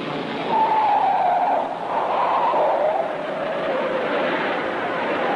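Race car spinning on a turn at the 1959 US Grand Prix, heard as a continuous engine roar with a rising and falling whine, under period commentary in an old broadcast recording.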